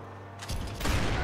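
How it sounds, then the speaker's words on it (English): A dense burst of rapid gunfire in Max Payne 3 swells in after a mechanical hum, growing louder and more chaotic toward the end. "It was a barrage of gunfire."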